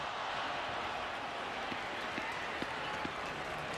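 A stadium crowd at a 2007 USA versus China international soccer friendly keeps up a dense, steady roar of cheering and applause, with a few sharper claps poking through the wash.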